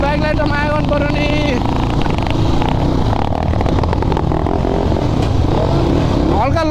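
Close dirt bike engine note lurching and revving unevenly on a village trail, a rough mechanical drone with a final quick rev climbing at the end, voices talking over it.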